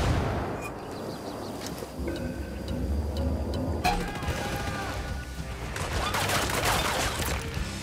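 Dense battlefield noise with heavy booming blasts and crackling, a continuous barrage of distant artillery fire with sharp impacts throughout.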